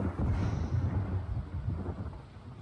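Rumbling thunder in the Roblox game Twisted during a tornado chase, a sustained low roll that swells at the start and then keeps grumbling steadily throughout, loud and close.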